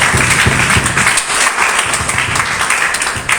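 A church congregation applauds the Lord Jesus with loud, dense, continuous clapping that fills the room for a few seconds.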